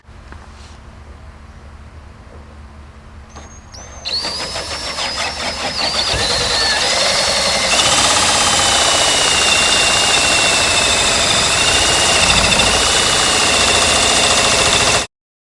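A power drill bores a centering hole for a fly hole cutter while installing a 13-gallon fuel tank retro kit, starting with brief whirs, then running at a loud, continuous, high-pitched whine before stopping abruptly.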